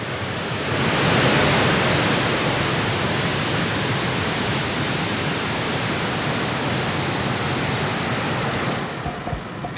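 A SpaceX Falcon 9 rocket lifting off on a Starlink mission, a loud, dense, continuous roar that swells in within the first second and holds steady for several seconds without speech.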